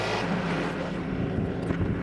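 A tractor engine running as the machine is moved, a steady low rumbling drone with broadband noise, close and fairly loud throughout.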